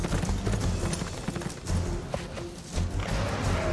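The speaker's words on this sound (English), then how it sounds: "You just heard a horse?" Hooves clip-clop in Metal Gear Solid: Peace Walker, a continuous trotting rhythm set against a dense rumbling game soundscape, moderately loud with no speech.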